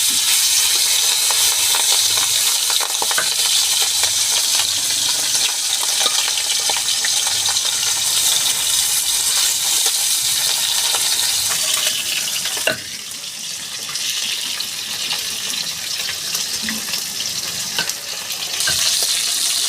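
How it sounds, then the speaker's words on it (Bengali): Small bata fish fry in hot oil, seasoned with salt and turmeric: a steady, loud, dense crackling sizzle that lasts throughout, with a sharp clack near the middle and no voices. "আমার তেল গরম হয়ে গেছে মাছটা দিয়ে দিচ্ছি আমি"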